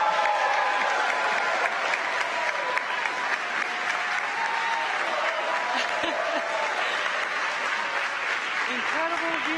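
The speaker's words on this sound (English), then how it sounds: "the crowd goes wild for Crew 4" A large outdoor crowd applauds and cheers continuously for the Crew Dragon Freedom capsule splashing down with four astronauts of Crew 4 aboard, a dense steady roar of clapping and shouts with faint talk mixed in.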